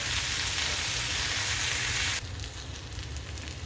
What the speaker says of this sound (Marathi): आता आपण ते तेलामध्ये परतून घेतो आहे